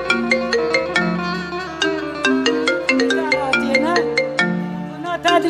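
A phone ringtone plays a steady electronic melody of repeated bright tones, loud and continuous throughout, with no talk over it.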